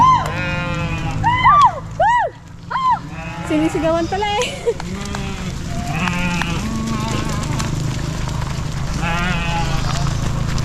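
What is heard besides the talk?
goats bleating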